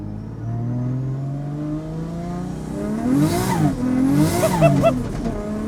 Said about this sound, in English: Sounds so good as well. Yeah, them RB20 noises.